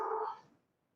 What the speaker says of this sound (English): That's my dog, Samson.